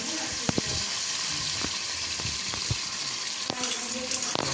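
Chili powder and spices fry in a hot pan with a bright crackling sizzle, while a spoon knocks and scrapes against the pan in quick irregular strokes.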